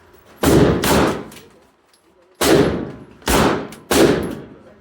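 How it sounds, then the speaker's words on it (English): A SIG 9mm pistol fires four loud, close shots at an indoor range, one pair and then two singles, each a sharp crack with a ringing echo and no talk between them. "me shooting I think it's a SIG 9mm pistol"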